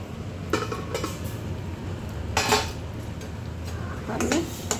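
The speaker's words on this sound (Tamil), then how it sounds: "இப்போ ஒரு பாத்திரம் வச்சு மூடி வச்சோம் வேகட்டும்" A metal lid clanks onto a cooking pot of banana flower curry a few times, with sharp clattering hits over a low steady background hum.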